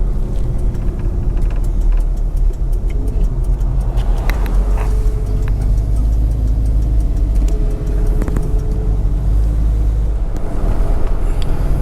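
A 1954 Chevrolet Bel-Air driving in high gear, its engine holding a steady low rumble with road noise underneath, close and continuous with no one talking.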